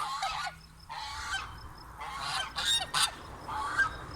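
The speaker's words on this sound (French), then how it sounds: "toujours les oies de Guinée." Several loud honks from African geese in short bursts with brief pauses, fairly close, with no talking.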